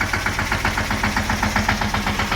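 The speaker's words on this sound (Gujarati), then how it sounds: "ટ્રેક્ટર ચાલુ થઈ ગયું છે" A farm tractor's engine idles just after starting, a close, even chugging with a fast regular pulse and a slight knocking edge.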